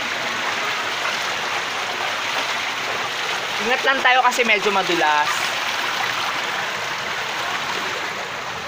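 Mountain spring water flowing and falling downhill at a river bathing spot in Malibong, Pangasinan, a steady broadband rush running throughout, with a person speaking briefly over it midway.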